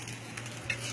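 A brief, steady sizzle of a stir-fry in a pan, with a faint light clink partway through and no voices.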